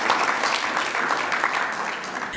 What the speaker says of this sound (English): Please, can we give FAO a big round of applause?